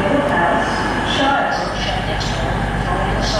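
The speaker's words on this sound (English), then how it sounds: "Well, here's the train." A Class 150 diesel multiple unit pulls into a British railway station, a steady loud rumble of engine and rolling wheels filling the platform throughout.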